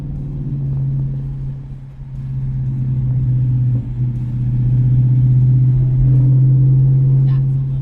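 A 2024 Ford Mustang GT S650 with an X-pipe and muffler delete gives off a deep, droning V8 exhaust hum that rises and dips briefly, then settles into a loud, sustained low rumble.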